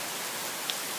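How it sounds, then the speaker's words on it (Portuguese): Rain falls in a steady, dense hiss of drops striking surfaces, even in level throughout, with one brief brighter drop sound near the end. "Chuva,"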